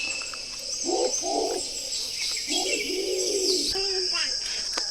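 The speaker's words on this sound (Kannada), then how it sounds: "ಈ ಒಂದು ಬರ್ಡ್ಸ್ನ ನಿಕೋಬಾರ್ ಪಿಜನ್ ಅಂತ ಹೇಳಿ ಕರೀತಾರೆ" Soft, low cooing calls from Nicobar pigeons repeat in short phrases nearby, over a steady background hum and faint chirps.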